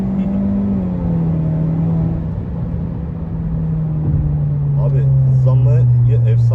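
A 280-horsepower Honda Civic FC5 with a CVT accelerating at full throttle from about 60, a loud droning engine note heard from inside the cabin, pitch climbing gradually, with a voice speaking over it near the end.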